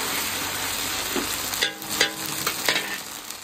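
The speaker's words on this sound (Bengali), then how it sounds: "পাঁচফোড়নটা একটু হয়েছে ওই নারকেলটা জ্বালাইলাম নারকেলটাও জ্বালাইলাম" Grated coconut and panch phoron frying in a pan to season taro greens: a continuous hiss of hot oil, then a few scraping stirs and spatula taps close by, with no talk.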